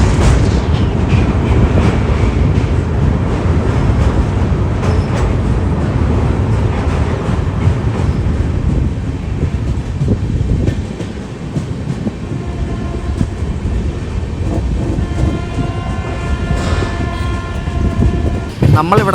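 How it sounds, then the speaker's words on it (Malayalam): An Indian express train rumbles loudly across a bridge over the Sabarmati River, its wheels clattering continuously near at hand; a horn sounds toward the end over the constant roar. "ആ വരുന്നതാണ് നമ്മുടെ ശ്രീഗംഗാനഗർ തിരുവനന്തപുരം നോർത്ത് എക്സ്പ്രസ്."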